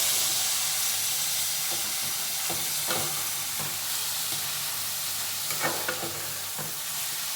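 Mutton kheema frying in a cooker as tomato is added, a steady loud sizzle and hiss with scattered spoon scrapes and stirring clicks over a medium flame.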